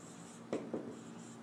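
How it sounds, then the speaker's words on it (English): Pen or marker writing a word and drawing a smiley face on a surface, with two short scratchy strokes close up over a steady low hum. "So I'm going to write big and then put a smiley"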